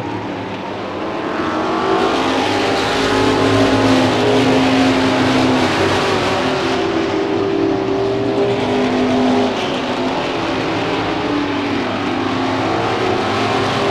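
Weekly stock car racing at Hudson Speedway in 1988: a pack of race cars roars continuously around the oval, engines droning and rising and falling as they pass, loud and unbroken.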